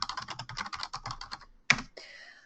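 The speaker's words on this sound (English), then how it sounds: "I'm going to type in my name." A name being typed on a computer keyboard: a quick, even run of close key clicks, a brief pause, then one sharper keystroke followed by a faint ringing tone.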